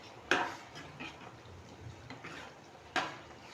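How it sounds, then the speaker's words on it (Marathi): A spoon clanks and scrapes against a pan while masala okra is mixed with salt, two sharper metallic knocks standing out over soft intermittent stirring, close and fairly quiet. "मीठ टाकून मिक्स करायचं व्यवस्थित."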